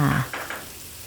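A brief burst of sizzling from a hot wok as catfish, Thai eggplants, green peppercorns, red chilies and kaffir lime leaves are stir-fried, with a quick scrape of stirring before it fades to a soft hiss.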